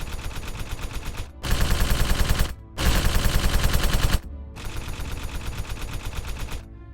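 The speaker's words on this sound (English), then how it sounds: "Their crew took their cue from Denzel and also opened fire on the stationary droids." Bursts of automatic gunfire tear into stationary droids: three loud, rapid volleys separated by short silent gaps, then a longer, slightly quieter burst, with no voices.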